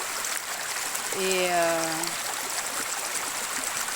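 A mountain stream flows with a steady broadband rush throughout, someone briefly speaking over it near the middle.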